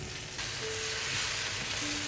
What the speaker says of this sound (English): Add the bok choy and stir fry over medium-high heat.